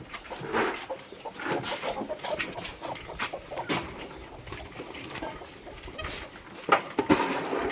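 Fighter (game fowl) chicks being fed chana dal feed in a shed, with soft clucking and scattered pecking and rustling close by, plus a few sharper bird calls near the end; no talking.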